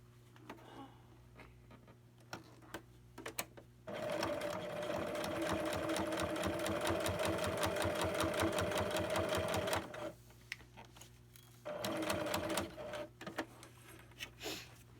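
Close sewing machine stitching belt loops, a fast steady clatter of needle strokes running about six seconds, then a shorter burst after a pause, with quiet handling clicks between runs and no talking.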